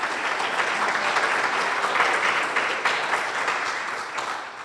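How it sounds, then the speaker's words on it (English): A seated audience at an oratorical competition claps for the contestants, a steady dense wash of applause from many hands held at an even level throughout, with no voice rising above it. "Let's give all of our contestants a round of applause again."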